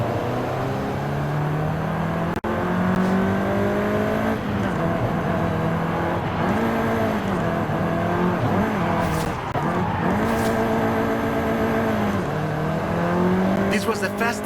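Volkswagen Golf R engine in the Forza Horizon 5 racing game, a steady droning hum with rising and falling revs as the car accelerates and shifts, loud and continuous throughout with faint tire noise.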